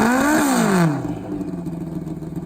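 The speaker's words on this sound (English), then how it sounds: "Douglas Robinson and the bad to the bone nitrous machine gets set to make a hit here" A Pro Extreme nitrous drag bike, the Bad to the Bone machine, screams as it launches and revs up hard at an XDA event, then the loud engine howl fades and rumbles away down the strip.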